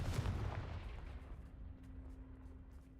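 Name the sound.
Confringo spell cast in Hogwarts Legacy video game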